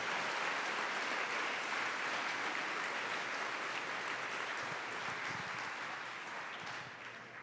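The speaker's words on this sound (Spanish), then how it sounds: "¿Alguien puede dar un aplauso a la gloria de Dios?" A church congregation applauds at moderate volume, a sustained, even patter of many hands that slowly tapers off toward the end.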